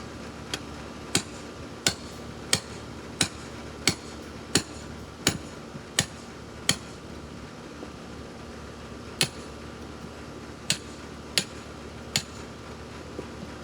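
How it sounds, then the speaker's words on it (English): A hammer strikes a pipe bollard in sharp metallic hits, about a dozen evenly spaced blows with a short pause partway, ringing out over a low background hum. "I shouldn't be using the hammer like I just was."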